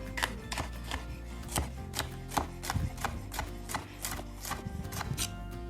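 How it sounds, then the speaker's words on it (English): A knife chops a red pepper into strips on a cutting board, with rapid, close, regular cuts tapping throughout and no talking. "Then you cut the red pepper in 4/4. And now when you cut it in strips, they're all gonna be the same length."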